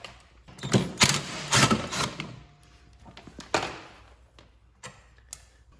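A 3/8 socket wrench loosening a bolt on the deck belt guide of a John Deere X300 series riding mower with a 42-inch deck: irregular metallic clicks and knocks, close by and without speech.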